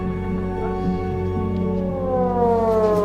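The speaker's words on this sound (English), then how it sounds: "because air sirens went off" A steady air raid siren in Ukraine during the war with Russia wails on and on, its tone slowly sliding downward near the end, with no talking over it.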